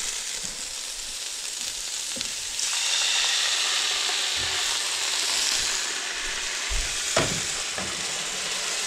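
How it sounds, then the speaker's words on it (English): Cabbage sizzles loudly in a very hot pan after a splash of water is added, a steady close frying hiss that swells into steaming, with occasional stirring clacks. "I'm going to add just a little bit of water just to kind of steam this cabbage"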